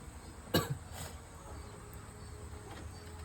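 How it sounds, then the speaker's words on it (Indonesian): A single short, sharp cough from a child rings out near the start over a quiet outdoor background with faint insect chirps, followed by a softer second sound. "Kaget mereka dengar adek batuk."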